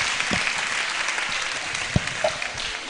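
Audience at a symposium applauding, a dense, steady patter of many hands clapping throughout, with a few sharper individual claps standing out.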